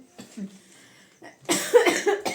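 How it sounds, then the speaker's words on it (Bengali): Coughing from one person, a few short coughs and breaths first, then a louder burst of coughing near the end, recorded close up. "এত কাশিটা হচ্ছে না"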